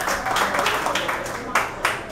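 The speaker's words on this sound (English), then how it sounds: "Round of applause for King's Promo as well." Crowd at an entertainment company launch event clapping for the sponsor King's Promo, a steady patter of hands with a couple of sharper claps, a voice speaking over it.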